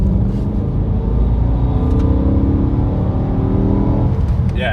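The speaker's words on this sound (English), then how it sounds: "but it definitely sounds like a V8" A V8 engine swapped into a BMW Z4 Coupe drones steadily from inside the car while driving, a deep, even rumble with no talk over it.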